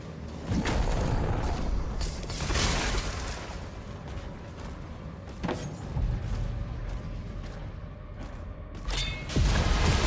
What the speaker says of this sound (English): So that's actual elevator, yeah.